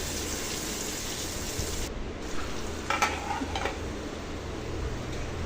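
Raw banana pieces fry in a pan with a dense, steady hiss like light rain, with a couple of faint clicks of utensils partway through.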